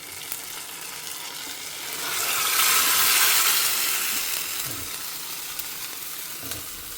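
Hot oil sizzles loudly as tempering is poured into Tamil eggplant kuzhambu curry, the hiss swelling to a peak before settling into a steady crackle.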